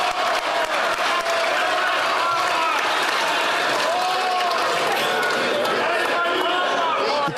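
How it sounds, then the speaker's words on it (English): Loud applause and clapping fill the chamber during Canada's parliamentary question period, sustained throughout with crowd murmur and voices mixed in. "I don't even know what the hell they're clapping about."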